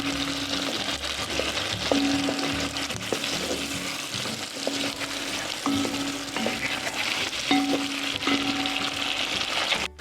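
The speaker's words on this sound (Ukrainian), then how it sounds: "ось так смажиться м'ясо." Meat sizzles and crackles steadily in a hot pan, with occasional clinks and scrapes as it is stirred and turned.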